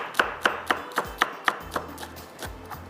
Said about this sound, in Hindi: अब इसके अंदर मैं हरी मिर्चें काट के डाल देती हूँ।